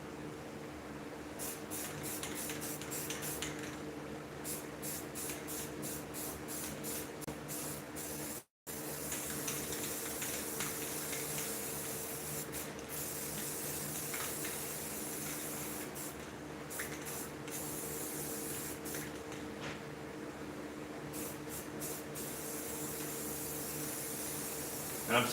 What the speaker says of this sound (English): I'm spraying it into the hair because I don't just want to change the color.